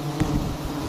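Bees buzzing around large hives hanging from a tree in a palm garden, a steady close drone with a brief louder swell partway through, no talk.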